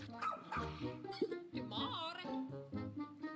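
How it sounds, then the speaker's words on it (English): A dog ally barks and yips in a Nintendo Direct game trailer, sounding over game music and effects with several short barks spread through the passage, mixed together with a voice. "Oh, you have a dog ally."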